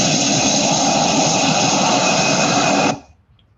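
A steady, loud broadband roar of an airplane's engines, constant throughout and then cutting off abruptly near the end, with no voices.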